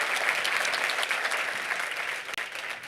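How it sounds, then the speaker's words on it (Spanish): Audience applause for Christopher Terry fills the room, a dense, steady clatter of many hands that stays loud and even throughout, with no voices over it. "Let's give him another round of applause for putting this."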